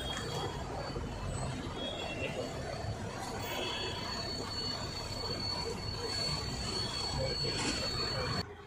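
A train moving through a railway station at night, with a steady rumble of rolling wheels and a faint squeal carrying on throughout, then dropping away at the very end.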